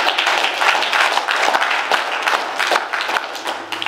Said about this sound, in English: I wanted to give him another clap of praise.